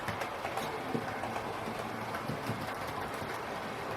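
A GWR Small Prairie model locomotive runs on its track with a steady, close whirring rumble and faint rhythmic rail clicks, continuous and moderately quiet.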